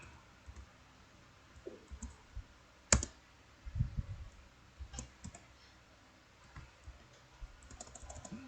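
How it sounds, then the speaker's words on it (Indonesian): HTML code being typed on a computer keyboard produces scattered, quiet key clicks in short bursts with pauses, including one sharper tap, in a quiet room. "Maka kita ketikkan"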